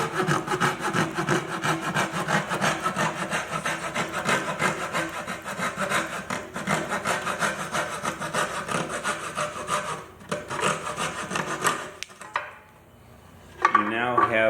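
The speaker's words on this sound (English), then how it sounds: "You put the saw up against the molding, your 45-degree cut, and you follow that angle and just work your way around the angle." Hand saw coping a 45-degree cut in wood base shoe molding, a steady rhythmic back-and-forth rasping close up for about twelve seconds, then a pause and a brief final stroke.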